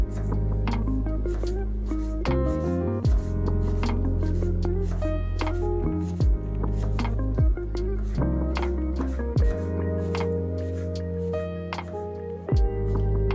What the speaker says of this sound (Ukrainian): Одну цибулю дрібненько нарізаємо.